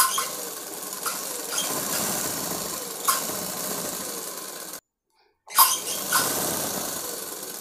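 A sewing machine stitches the lining of a crop top blouse in a tailoring shop, running in steady whirring bursts, close and clear, with a brief full stop before it starts up again.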